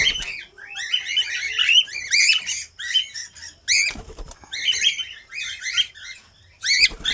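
Pet cage birds, a mix of small parrot-type birds, call in busy bursts of sharp, repeated chirps and squawks, fairly close and loud, with brief pauses and rustling between flurries and no talk.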